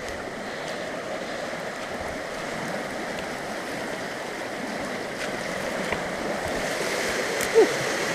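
A river flows beside a woodland path in Pandy Wood, a steady close rushing wash of water that runs evenly throughout with no talk.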